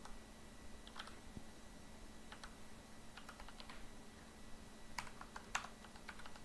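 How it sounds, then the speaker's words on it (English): Quiet typing on a computer keyboard entering a username, soft clusters of key clicks in short irregular bursts against a faint steady hum. "we need to type our username"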